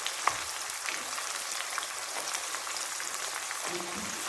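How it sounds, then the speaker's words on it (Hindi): Chicken and potato pieces frying on high heat, a dense, even crackling sizzle like steady rain, fairly faint and continuous with a few brief clicks and no talking. "आपने इसको तेज़ आंच पे इसको फ्राई करना है, गोल्डन ब्राउन करना है।"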